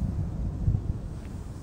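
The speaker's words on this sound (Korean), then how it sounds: "이곳 작은 동산에서 불어오는 바람도" Wind blows across a small hill facing snow-covered Chiaksan mountain, a low, gusty buffeting rumble against the microphone that swells and fades, with no voices.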